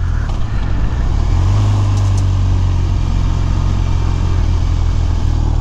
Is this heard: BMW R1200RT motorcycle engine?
yes